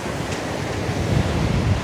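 Choppy sea off Isla Mujeres near Cancún, with catamarans out on the water: a steady, full wash of waves and surf with heavy wind buffeting the microphone throughout, loud and close, with no talking.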